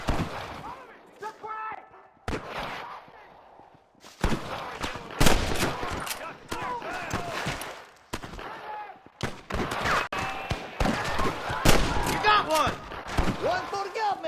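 Gunshots fired at rustlers in Red Dead Redemption, sharp single rifle and pistol cracks scattered irregularly across the stretch, some echoing, mixed with voices speaking between shots.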